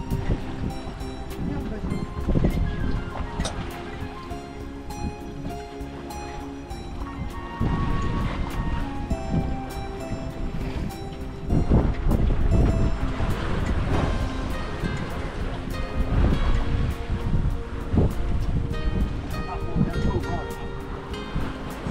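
Wind rushes steadily over a sailing boat under way, mixed with water washing against the hull and rhythmic creaks of rigging, with people talking intermittently over the noise.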